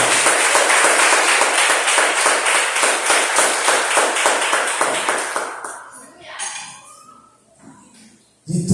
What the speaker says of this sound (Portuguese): aplaudindo ao Senhor com alegria